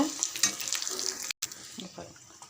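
Vadagam frying in hot oil in a pan, a steady crackling sizzle with a few stirring clinks and one brief dropout partway through.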